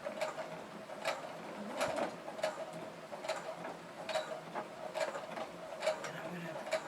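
A sewing machine stitches a cross body bag, running a steady mechanical hum with regular ticking strokes about every second as it back stitches, quiet and close with no one speaking.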